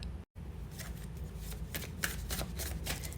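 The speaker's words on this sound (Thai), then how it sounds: "เราเลือกไพ่สักครู่นะคะ" Tarot cards being shuffled and picked, a quiet continuous riffle and slide of cards close by, broken by one brief silent gap near the start.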